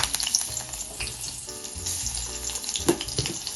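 A green chili frying in a little oil in a pan, a soft steady sizzle with faint crackles and spatters.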